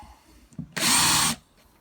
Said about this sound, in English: we can now drill our reel